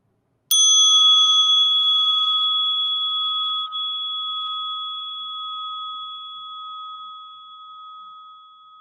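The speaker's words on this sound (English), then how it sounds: "I have this Tibetan bell that I brought back from Tibet." A Tibetan bell is struck once and rings out with a clear, bright tone that slowly decays over several seconds, heard alone in a quiet room.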